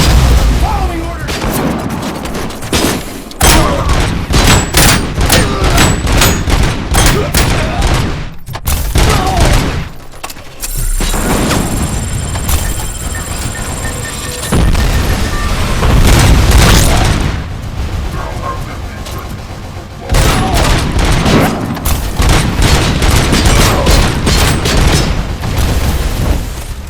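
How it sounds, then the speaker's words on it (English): Gunfire from the RoboCop: Rogue City video game, with dense, loud bursts of shots and booming impacts that run almost continuously, broken by a few short lulls and brief robotic voice lines. "Engaging the enemy! Continuing fire!"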